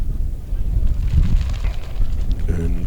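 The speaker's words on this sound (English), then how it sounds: "it's what you call very windy here today" Strong wind buffets the microphone at an outdoor football match between Cinderford Town and Slough Town, a loud, rumbling low roar that persists throughout, with faint voices near the end.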